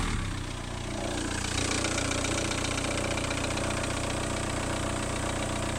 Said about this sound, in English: Can you hear it's got a bit like a kind of really whirry, shitty top end noise?